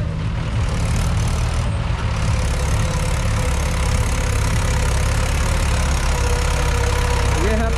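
Mahindra 575 DI tractor engine pulling a fully loaded trolley of about 160 quintals, a steady heavy low diesel drone that stays loud and continuous throughout with faint voices beneath.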